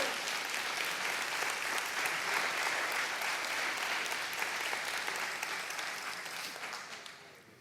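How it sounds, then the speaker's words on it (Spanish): A church congregation applauds during a sermon, a dense, steady wash of many hands clapping that holds loud and even before slowly fading toward the end, with no voices over it. "Si va a dar un aplauso, déselo al Señor y déselo con gusto."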